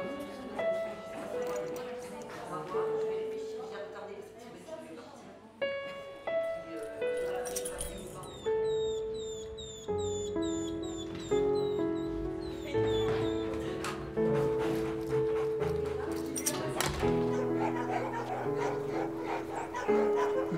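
Dogs in an animal shelter give yips and whimpering barks that rise and fall over about twenty seconds. The dogs are mixed with a steady musical bed, and a narrator's voice speaks over them.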